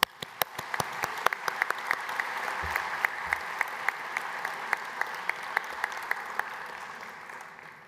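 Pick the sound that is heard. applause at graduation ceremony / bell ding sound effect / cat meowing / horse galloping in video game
applause at graduation ceremony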